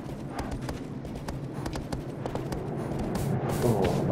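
Horse hooves clip-clopping at a steady gallop in Shadow of the Colossus, a rhythmic run of hoofbeats over a rumbling bed that grows slightly louder toward the end, no one speaking.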